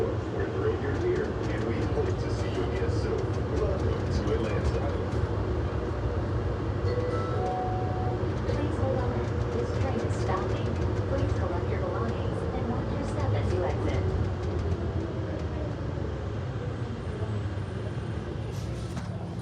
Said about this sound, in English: The inside of the train, which is a Bombardier CX-100